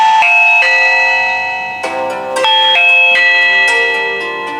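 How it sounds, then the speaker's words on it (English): A shop doorbell system rings through a connected phone with a loud, bright electronic chime, several melodic ding-dong tones repeating over about four and a half seconds with no talking. "What you hear is it's calling my phone, telling me somebody actually is on the doorbell system."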